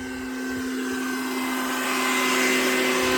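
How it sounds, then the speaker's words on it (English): A grain grinder running with an empty hopper while grinding chicken feed, a steady high motor whine with sharp tonal hum that slowly swells louder and brighter, close by, no talking. "I just heard the grinder change sounds, and that means the hopper is empty"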